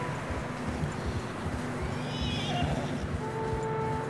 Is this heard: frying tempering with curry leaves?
no